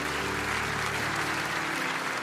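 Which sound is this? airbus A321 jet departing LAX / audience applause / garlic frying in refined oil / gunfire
audience applause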